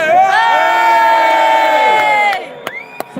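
A large crowd at a patriotic rally in London roars and cheers in one loud, sustained swell lasting a couple of seconds, then drops off to a few scattered shouts and sharp noises.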